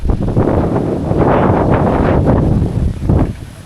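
Dry wind gusting across open rice fields in the countryside at the start of the cool season, a loud, steady rush buffeting the microphone with surging peaks and no talk.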